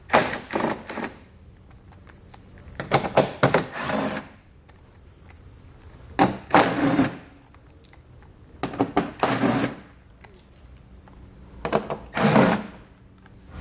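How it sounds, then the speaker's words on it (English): A 10 mm socket on a power tool backs screws out of a 2020 Toyota Sienna during a trailer hitch installation, in five short, loud whirring bursts with quiet pauses between them. "So I'll take a 10 millimeter socket and pull those out."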